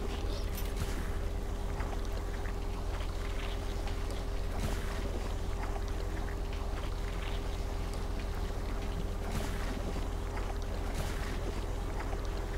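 Continuous spraying of water or slime from a stream weapon in Ghostbusters: The Video Game, a steady dense hiss with low rumble and a faint hum, punctuated by a few sharper splashy bursts, loud and unbroken throughout.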